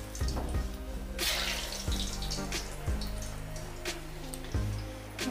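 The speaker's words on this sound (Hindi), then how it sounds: "आप चलते हैं इसे फ्राई कर लेते हैं।" Bottle gourd kofta dropped into hot oil, frying with a steady loud sizzle and bubbling, broken by several sharp splashy bursts as pieces go in.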